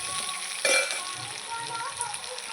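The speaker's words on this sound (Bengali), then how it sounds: "আলুগুলো দিয়ে দিচ্ছি আলু পেঁয়াজ একসঙ্গে ভেজে নেব ভালো করে" Potatoes and onions fry together in a pan, a soft, steady sizzle with a brief louder stir partway through, heard close but fairly quiet.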